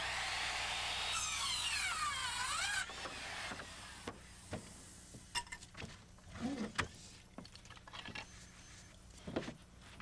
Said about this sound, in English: We eyeball an angle cut at one end, position it, and cut an angle at the top end.